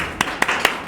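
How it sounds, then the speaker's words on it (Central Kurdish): Four sharp hand claps spaced evenly, about one every quarter second, close and fairly faint, for a teacher in a classroom with no talking. "دێ چەپڵە."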